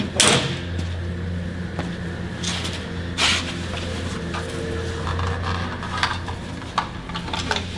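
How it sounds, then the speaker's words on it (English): A door in a welding shop, beside a Lincoln Electric 360MP pulse MIG and TIG welder, is shut with a few sharp knocks and bangs over a steady low mechanical hum. "I'll shut this door."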